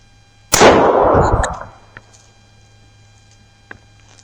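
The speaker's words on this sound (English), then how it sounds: "I'm going to shoot this very close because this thing's got rudimentary sights." A single sharp .22 Long Rifle shot fired at close range into old body armor, loud and close, trailing into about a second of echoing decay, then quiet with faint small clicks.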